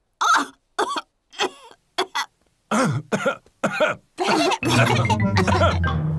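Cartoon adults coughing in a series of short fits, several separate bursts with pauses between, building into longer, rougher coughs toward the end.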